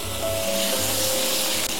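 Lemon juice goes into a sauce in a pan while shrimp fry for lemon rice with lime herb shrimp, producing a loud continuous sizzle with a low hum underneath and no talking.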